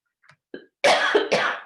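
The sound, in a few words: cough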